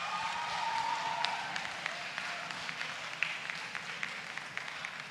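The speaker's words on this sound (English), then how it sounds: "please, a huge round of applause for" Applause from an audience at a student Model UN closing ceremony, a steady soft wash of clapping heard from a distance, with a few brighter claps and faint voices mixed in.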